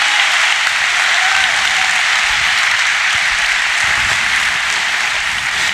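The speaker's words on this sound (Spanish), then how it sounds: "Alguien que le dé un aplauso a la palabra." A church congregation gives sustained applause during a sermon, a dense, even roar of many hands clapping together that holds steady and loud from start to finish, with no voices over it.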